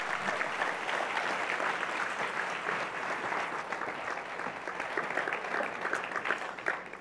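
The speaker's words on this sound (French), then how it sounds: "On les applaudit une dernière fois." An audience at a housing summit applauds the two host mayors, a dense, sustained round of clapping from a sizable crowd that carries evenly throughout.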